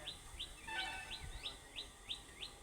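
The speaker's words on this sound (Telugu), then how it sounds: "చెట్లు, చేమలు, కుట్టలు, పిట్టల సప్పుడు వినబడుతుందా? P P P P P అంటుంది." Outdoors among trees, a bird repeats a rising chirp about eight times in an even rhythm, with a few softer calls between, faint and somewhat distant over quiet background.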